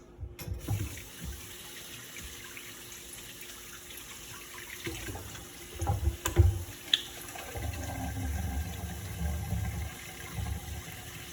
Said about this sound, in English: We're gonna wash our hands.